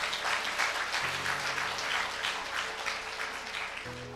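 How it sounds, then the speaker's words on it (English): An audience at the 2023 One Korea International Forum applauds a general, with steady, dense clapping that stays at an even level throughout. "Let us give a round of applause to our general."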